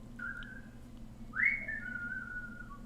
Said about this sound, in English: They began whistling a Johnny tune, which at first I thought was fun.